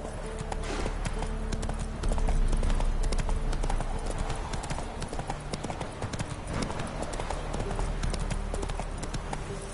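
Roach, the horse in The Witcher 3, gallops with a loud, steady clip-clop of hooves, the rapid rhythmic beats continuing unbroken and close for the whole stretch.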